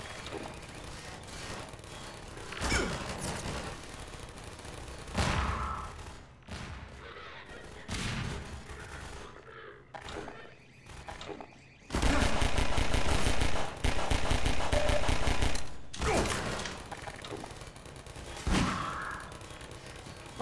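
Bursts of gunfire in Half-Life 2, including rapid automatic fire, come in several loud clusters, with the heaviest stretch in the middle and quieter gaps between them.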